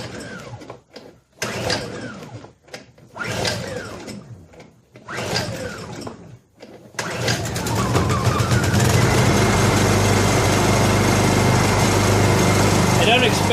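A Honda EU2000i portable inverter generator is pull-started several times in rhythmic bursts, then catches and runs steadily and loudly; people talk briefly between the pulls.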